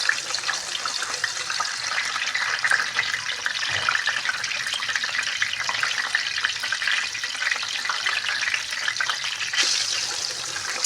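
Eggs fry in hot oil over a full flame for an egg masala, producing a continuous, even hiss and crackle that stays close and constant.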